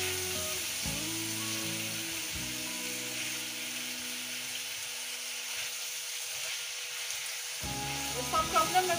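Vegetables, cabbage and rice being stirred together in a frying pan give a steady sizzle with soft scraping and clinking of the spatula, a low hum running under it for most of the mix.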